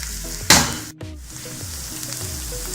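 Onions lightly frying in a pan for masala seekh kebab give off a steady close sizzle. A sharp clatter of stirring cuts in near the start.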